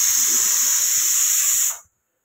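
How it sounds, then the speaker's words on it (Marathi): Hot oil hisses loudly as a tempering for a vegetable dish is added in a home kitchen. The bright, steady sizzle lasts under two seconds, then cuts off abruptly into silence. "आता इकडे भाजीला फोडणी देते."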